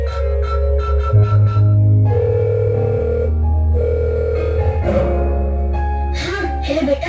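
A telephone call rings out on stage during a dance-and-drama performance set in an old age home, with steady electronic ringing tones repeating loudly and close for several seconds and no talking.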